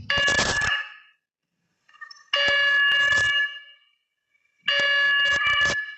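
Three bright electronic quiz buzzer tones sound in turn at a college crossword competition, each lasting about a second with short silent gaps between them, loud and close.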